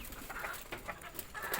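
Young pigeons in a loft where eggs are spoiling in rainy weather give soft, scattered coos and rustles over steady background noise, fairly close, with no talk.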